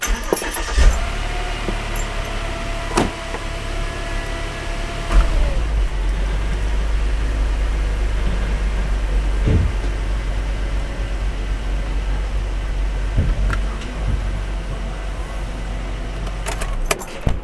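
A 2013 Volvo XC90 with keys jangling as the engine cranks and catches, then settles into a steady low idle, with a few clicks and knocks around it; moderately near.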